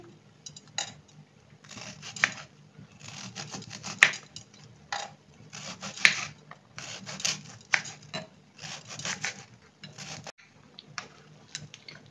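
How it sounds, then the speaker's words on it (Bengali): A knife chops bitter gourd into chunks on a board, a series of irregular close, crisp cuts and scraping strokes, some sharp and loud, with no one talking. "এই এই ওটা হতে হতে আমি এই উচ্ছেটা কেটে নিই চাপ চাপ করে"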